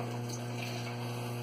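Electrolux LT15F washing machine overflowing, giving a steady, continuous rushing and gushing of water with a pump-like hum underneath, fairly faint and unbroken, with no voices.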